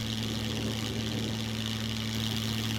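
Engine of a plane in the survival video game SCUM runs at a steady idle-like drone, with a constant low hum and sustained hiss, unchanging throughout.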